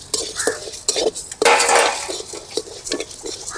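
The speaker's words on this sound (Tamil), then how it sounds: "துவரம் பருப்பு 1 பூணு, உளுந்தம் பருப்பு 1/2 பூணு கொட்டிக்கலாம்." Toor dal and urad dal tipped into a pan, heard as close metallic clinks and scrapes of a spoon against cookware, with a brief rattling pour of dry lentils in the middle.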